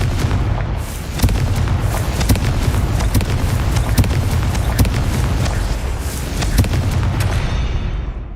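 Repeated Confringo fire-blast spell explosions in Hogwarts Legacy, a dense barrage of loud booming blasts with sharp cracking onsets roughly every half second, continuous rumbling between hits and no talk.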